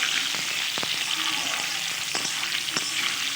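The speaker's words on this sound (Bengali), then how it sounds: "ভালোভাবে নেড়ে চেড়ে আলুটা ভেজে নেব" Boiled small potatoes fry in hot oil with salt as they are stirred in a pan, giving a steady close sizzle broken by occasional scrapes of the spoon, with no voices.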